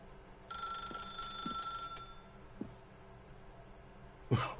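Electronic telephone ring in The Stanley Parable: one sustained tonal burst with high harmonics lasting about a second and a half, over a low background hum, followed by scattered thuds and a loud clatter at the end.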